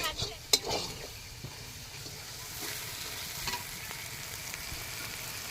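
Spices for a duck curry fry in oil with cumin and black pepper, making a steady, faint sizzle. A few sharp utensil clinks come near the start, then a quieter stir-scrape continues beneath.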